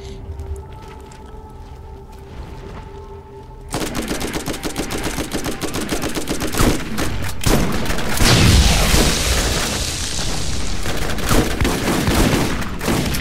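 Heavy, continuous automatic gunfire and explosions in the shooter game Borderlands, starting abruptly after a quieter stretch of electronic hum and staying loud and dense to the end.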